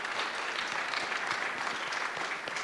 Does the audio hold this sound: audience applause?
yes